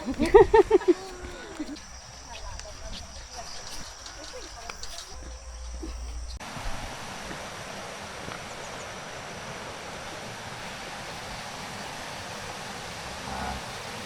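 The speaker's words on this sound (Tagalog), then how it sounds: "Ganda ng tunog ng ano, tubig." Aw-Asen Falls, a tall waterfall in Ilocos Sur, roars as a steady broadband wash. Brief sharp sounds open the recording before the continuous rushing water settles in and fills the rest.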